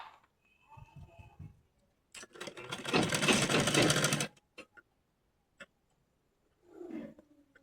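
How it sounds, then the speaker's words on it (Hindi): Sewing machine stitching the drawstring casing on a Patiala salwar, one loud steady run of about two seconds, then a few short clicks and handling sounds; faint hums at the start and a brief stir near the end. "इस प्रकार से हम सिल लेते हैं।"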